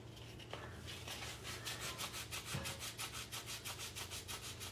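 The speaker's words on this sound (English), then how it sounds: "I'm going to go ahead and hit it with the sanding block a little bit, just for good measure" Rhythmic rasping strokes of a sanding block rubbed over wood on a size 15 Morgan guitar, quiet and close, with regular back-and-forth passes growing steadier toward the end.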